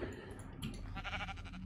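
Sheep in Minecraft give a couple of short, faint bleats, with quiet game ambience underneath.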